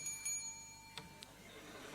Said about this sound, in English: as a candidate reaches 15 seconds remaining on their time, he will ring a bell once